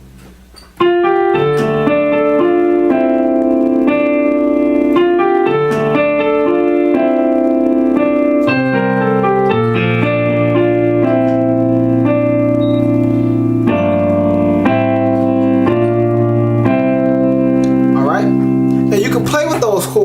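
Piano plays part 3 of a song slowly, sustained chords and melody notes ringing out clearly and loudly for about twenty seconds, alone after a brief quiet start.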